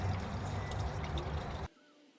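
Engine oil drains from a Hyundai Sonata in a steady, dense pouring rush that stops abruptly near the end, leaving near silence.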